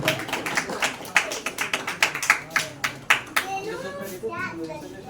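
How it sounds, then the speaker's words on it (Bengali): An audience at an awards ceremony claps hands in encouragement for a third-place winner, a steady run of sharp, close claps that fade into murmuring voices and children's chatter. "হাততালি দিয়ে আমরা উৎসাহ জানাবো।"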